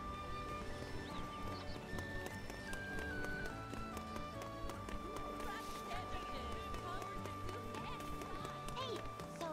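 Horses gallop in the video game Granblue Fantasy Relink, a steady run of clip-clop hoofbeats under a dense layer of game music and ambience, with occasional neighs.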